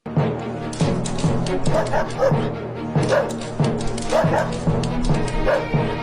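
A Border Collie gives repeated yippy barks and whimpers at an uneven rhythm, close and loud, with background noise and some voices around it.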